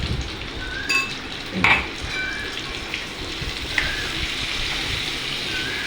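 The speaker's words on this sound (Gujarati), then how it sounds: "એને મિક્સ કરી દઈશું પાછું એકદમ હલકે હાથે મિક્સ કરવાનું છે" A spoon stirring cauliflower, potato and eggplant curry with garlic chili in a pan, gentle scraping and soft clinks under a faint sizzle, with a few light metallic taps at scattered moments.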